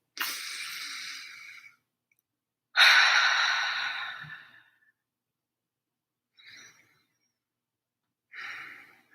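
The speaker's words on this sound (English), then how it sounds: "I'm gonna take some deep breaths first." Deep breaths drawn and released slowly, four separate breaths: two long, loud airy exhales near the microphone, then two shorter, softer ones after a pause, with no talk.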